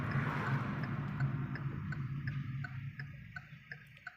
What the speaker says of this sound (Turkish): Sola sinyal veriyorum.